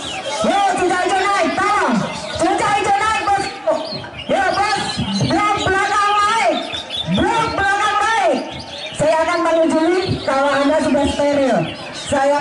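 A Cucak Ijo (green leafbird) sings loudly at a bird-singing contest, with rapid, repeated whistled and chattering phrases that continue throughout, while an announcer and a crowd murmur in the background.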